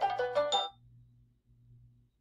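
A phone ringtone plays a brief melodic phrase of clear tones, moderately loud, then cuts off and leaves only a low hum in the room.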